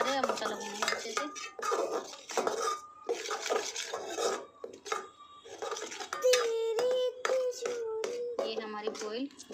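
Spice masala roasting in a pan for Indian-style macaroni, with repeated clinks and scrapes of a spoon against the pan and dishes, close and busy, under a person talking throughout.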